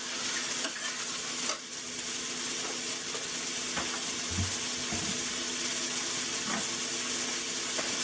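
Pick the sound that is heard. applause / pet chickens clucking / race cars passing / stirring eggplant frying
stirring eggplant frying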